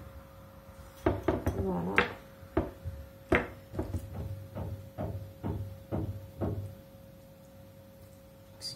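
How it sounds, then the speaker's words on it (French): A neighbour hammering during renovation work next door, a series of sharp knocks in an irregular rhythm, moderately distant and muffled through the walls, with a steady hum underneath and a brief spoken word near the start. "c'est au moment où je filme qu'il va commencer à jouer du marteau"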